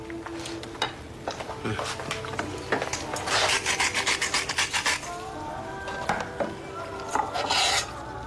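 A spoon stirs and scrapes inside a pot in a domestic kitchen, a run of rapid rasping strokes building to a busier scraping stretch, close and fairly loud, with brief voices around it.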